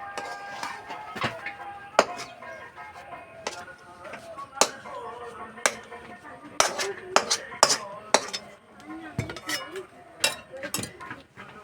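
Cooked semolina halwa scraped from a metal pan onto a ghee-greased plate, with sharp clinks and scrapes of a spoon against metal at an irregular pace, close by, with speech in between.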